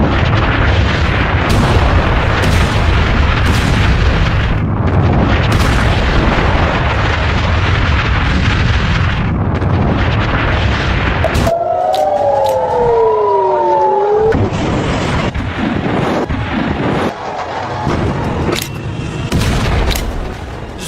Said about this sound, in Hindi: पूरा जहाज पानी की लहरों और लपटों के बीच, धमाका इतना जबरदस्त था